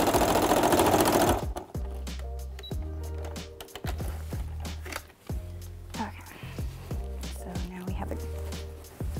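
A sewing machine stitches bias tape along the edge of a poncho in rapid bursts of needle clatter, stopping and restarting several times after a brief louder opening.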